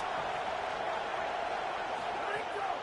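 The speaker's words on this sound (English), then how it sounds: "Listen to this crowd just shaking the girders of this place, trying to help their defense." A college football stadium crowd roars continuously in a dense, steady wall of cheering noise that fills the whole stretch at even loudness, with no distinct voices standing out.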